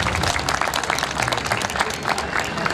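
An audience at a school annual function claps, a dense burst of steady applause from a crowd filling the whole stretch, with faint voices mixed into the noise.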